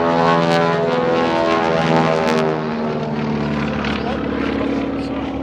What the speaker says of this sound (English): Now they got this cool Beechcraft